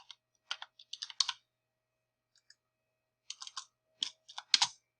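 Someone types on a computer keyboard in two short bursts of crisp, close key clicks separated by a pause of near silence, with no voice heard.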